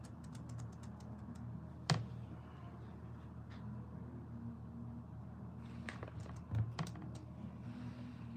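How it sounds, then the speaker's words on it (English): Soft, rapid clicking of keys on a computer keyboard, steady and faint, with a couple of louder knocks among the keystrokes. "Sometimes when you're typing, man, that stuff takes forever"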